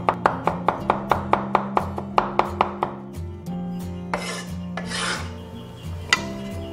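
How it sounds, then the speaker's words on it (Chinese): A kitchen knife chops garlic on a cutting board for mincing, then dices small pieces of green and red pepper, striking in quick, steady, close taps with a few rasping scrapes between bursts of cutting. "准备几个大蒜处理成蒜末， 各准备一小块青红椒切粒"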